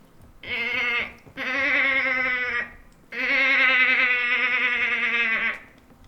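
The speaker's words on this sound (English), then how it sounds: "Sound like a goat." A pet goat bleating nearby, three loud, drawn-out nasal calls, each lasting one to two seconds, separated by short pauses.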